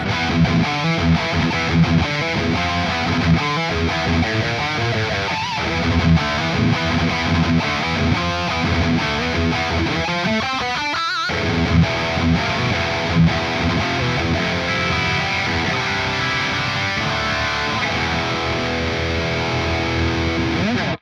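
Heavily distorted metal electric guitar through an amp-simulation plug-in, played loud and continuously, chugging riffs with a thick, saturated amp tone and a brief break midway.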